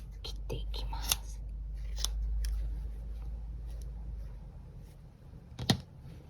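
Scissors snip through a loop of yarn while making a knitted hat pompom, with faint close clicks and one sharper cut near the end, under soft quiet talk.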